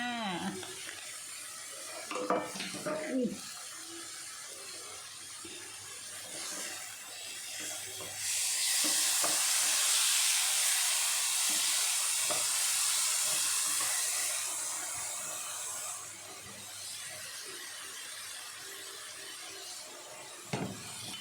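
Beef stir-fries in a hot pan with seasoning powder, sizzling and hissing steadily, swelling into a loud burst of frying midway before settling back. Occasional scrapes and clinks of a utensil against the pan sit close by.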